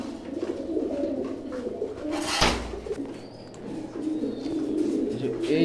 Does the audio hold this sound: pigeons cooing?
yes